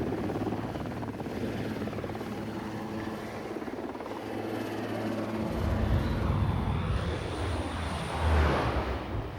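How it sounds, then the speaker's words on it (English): An amphibious helicopter's steady rotor drone and engine roar fill the clip, growing louder and closer toward the end, with no talking. "They really do have amphibious helicopters."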